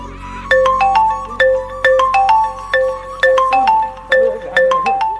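A mobile phone ringtone plays loud and close during an incoming call, a bright repeating electronic melody of quick pulsed notes cycling in regular phrases, with no one speaking over it.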